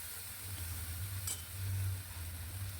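Rohu fish coated in poppy seed paste gets a gentle stir in a pan over a steady low sizzle, with one brief sharper scrape near the middle and no talking.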